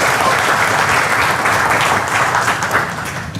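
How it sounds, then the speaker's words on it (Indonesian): A crowd at a product education demo applauds in a loud, dense, continuous wash of clapping that carries on for a few seconds with no break. "Tepuk tangan buat kita semua sekalian ya."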